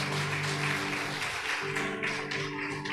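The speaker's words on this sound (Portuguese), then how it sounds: "Vamos aplaudir ao Senhor mais uma vez" A church congregation applauds together, a dense, steady wash of clapping held for about three seconds over sustained musical tones.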